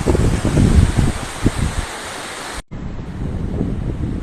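Water flowing steadily past a fish trap set in front of a house, a continuous broadband rush like surf, with a brief dropout partway through before the flow resumes.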